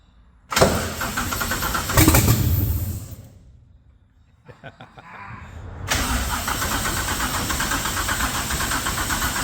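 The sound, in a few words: Godzilla engine swap starting up for the first time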